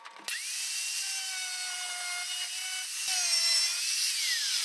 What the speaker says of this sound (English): I'm just going to use a diamond cutoff wheel, just trim it along this line here and then trim it along here